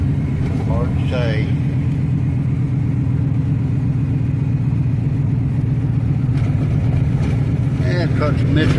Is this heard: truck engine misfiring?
yes